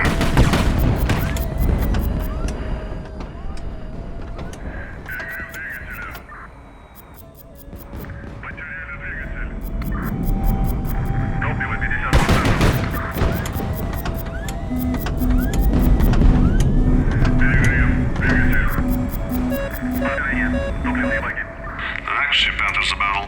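Naval battle in the video game Highfleet, with dense gunfire, booming missile hits and explosions, plus repeated clicking interface beeps running continuously over the mix.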